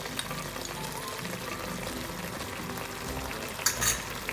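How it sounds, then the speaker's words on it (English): Diluted corn flour goes into a simmering chilli paneer gravy, giving a steady bubbling and sizzling hiss throughout, followed by a brief louder splash and stir near the end, with no one talking. "Finally, I am going to add 2 spoon of diluted corn flour."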